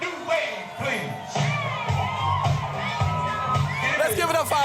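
A crowd at a Gwendolyn Brooks 100th birthday celebration screams, whoops and cheers on cue. Adults and children shout loudly together in a sustained, lively burst.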